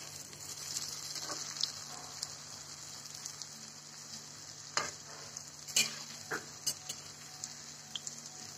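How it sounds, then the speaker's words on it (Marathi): Vadis fry in a little hot oil with a faint, steady sizzle, broken by a few sharp pops and scrapes near the end, heard quietly and close with no voices. "आता ह्याला चांगलं तळून घ्यायचं."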